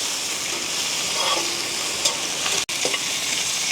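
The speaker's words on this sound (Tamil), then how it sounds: "தக்காளி பழமும் கருவேப்பமிலையும் போட்டுக்கொள்ளுவோம் இப்படியே கலந்து விடுவோம்" Tomatoes and curry leaves fry in a pan while being stirred, a steady close sizzle running throughout with a few scraping stir strokes, outdoors in a village kitchen, no talking.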